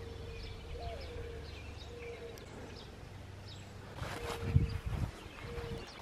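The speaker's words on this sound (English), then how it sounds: "We're just getting nothing but doves." Doves coo outdoors under clear skies, a soft, low repeated call that runs steadily at moderate distance behind quiet background ambience, with a brief louder rustle partway through.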